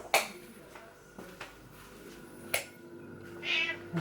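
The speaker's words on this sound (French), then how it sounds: "Pourquoi tu miaules?" A house cat meows several times indoors, with short clinks of dishes or cutlery and a voice speaking softly between the cries.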